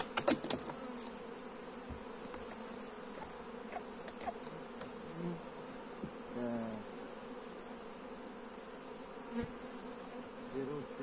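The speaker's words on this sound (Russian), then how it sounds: "Пчела летает." Honeybees buzz steadily around an open hive during a pre-winter colony inspection and treatment, a dense continuous hum with individual bees flying close past, fairly quiet and without talk.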